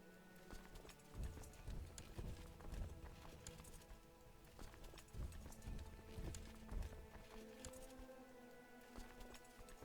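Horse hooves clip-clop steadily during a hunt in the video game Crusader Kings 2, a continuous rhythmic trotting patter with faint game ambience, quiet and without speech.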